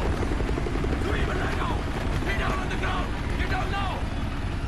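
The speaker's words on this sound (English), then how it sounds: "helicopter." A helicopter in the video game Far Cry 4 thrums as a loud, continuous rotor roar, with excited voices talking over it.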